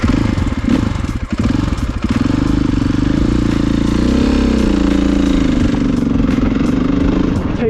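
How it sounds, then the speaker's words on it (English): KTM 500 EXC dirt bike pulling in third gear, a loud, close single-cylinder engine drone that holds steady and rises slightly in pitch, with some mechanical clatter early on. "I'm gonna be on third gear."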